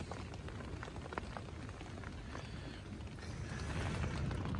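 Heavy rain pattering steadily on a camping tent, a dense crackling patter of drops that grows slightly louder toward the end.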